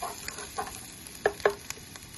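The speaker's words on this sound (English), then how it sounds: "Onion, yellow onion. Sweat it." Chopped yellow onion sweats in a pan for congee, giving a soft, low sizzle broken by a few sharp clicks of a utensil against the pan near the middle.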